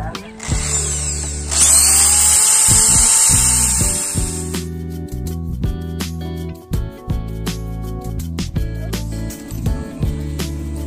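A small power drill with a small bit whines at high pitch for a few seconds while installing a switch on a Yamaha NMAX motorcycle, then stops, followed by repeated low mechanical clunks and rattles.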